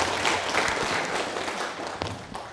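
A seated audience at a Korean Buddhist talk applauds, a dense wash of clapping held steadily for a few seconds at moderate distance, fairly soft and continuous.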